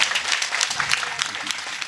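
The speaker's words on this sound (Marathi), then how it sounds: "टाळी वाजवा." Audience clapping at a Ram Navami kirtan: a dense, steady burst of many hands applauding together, fairly close and sustained with no voices on top.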